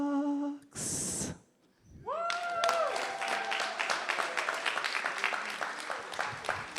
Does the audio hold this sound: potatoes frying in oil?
no